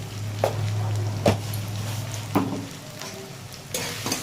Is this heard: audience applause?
no